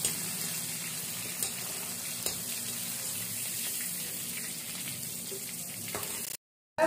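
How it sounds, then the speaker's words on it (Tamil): Steady hissing sizzle of dried fish frying in hot oil, continuous and even, with a couple of faint clicks, ending abruptly. "நல்லா முதல்ல நல்லா வேக வைக்கணும் கருவாடை எண்ணெயிலேயே"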